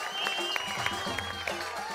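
Studio audience applause rattles along at moderate volume, with a few sharper claps and faint voices mixed in.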